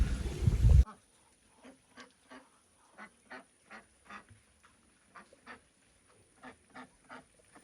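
Ducks, including Pekin, Dutch and Muscovy ducks, quack in a loose series of short, distinct calls, several per second at times, after a brief loud burst of noise at the start.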